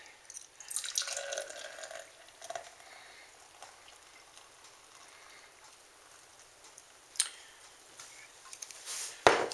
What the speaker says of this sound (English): So I'm going to pop the top and pour it in the glass.